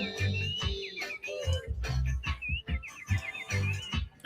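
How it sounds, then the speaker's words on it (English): Birds chirping and whistling in quick, repeated tweets and warbles, fairly close, over a dense background with low rumbling sounds. "Birds"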